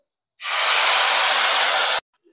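Ground spices hit hot oil in a pan while spinach curry is being made, setting off a sudden loud, close hiss that holds steady for about a second and a half, then cuts off abruptly.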